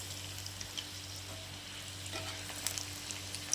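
Cassava susiyam deep-fries in hot oil, a soft, faint, even bubbling sizzle with a few small pops and no voices.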